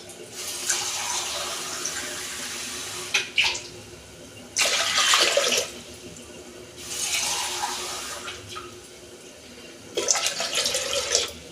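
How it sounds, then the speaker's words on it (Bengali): Water is poured into a pot of washed chickpeas set on the stove for boiling, in several separate close splashing pours of a second or two each, with quiet gaps between them. "এই বসিয়েছি, এই যে পরিমাণ মতো আমি জল দিচ্ছি"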